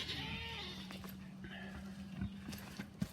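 Goat bucks on a homestead garden during a heatwave give a few wavering bleats near the start, then faint thuds and shuffles follow under a low steady hum, with talking in the background.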